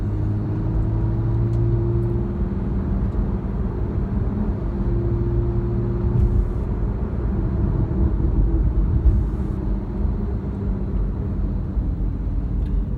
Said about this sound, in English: and the open sound of the Sport exhaust